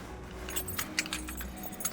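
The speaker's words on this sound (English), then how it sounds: "let's get our keys out" Car keys jangling beside a 2014 Hyundai Elantra, a brief run of light metallic clinks close by, with faint low background rumble and no speech.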